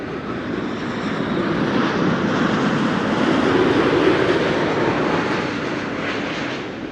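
A TUI airliner passes overhead at Amsterdam Schiphol Airport, a loud, steady broadband jet roar that swells toward the middle and eases slightly as it moves away.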